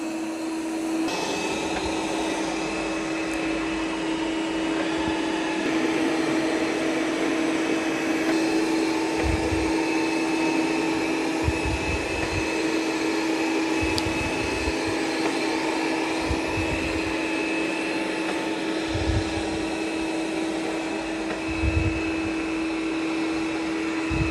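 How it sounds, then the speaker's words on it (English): A Roomba robot vacuum cleaner running across the floor in straight lines, a steady whirring motor hum close by with occasional soft bumps and brush thumps. "So now it's going to start vacuuming in straight lines."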